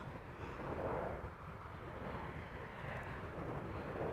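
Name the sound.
Embraer 190 from London City arriving at Amsterdam Schiphol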